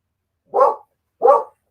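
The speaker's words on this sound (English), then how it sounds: "my dogs are in a kennel kind of like in the front" Two loud, close barks from a dog kept in a kennel out front in the country, evenly spaced about half a second apart with silence between.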